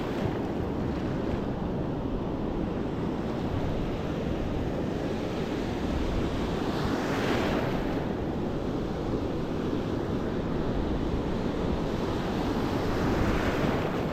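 Ocean surf breaks on the beach at Newport, Oregon, making a continuous roar of crashing waves mixed with wind buffeting the microphone, loud and unbroken throughout.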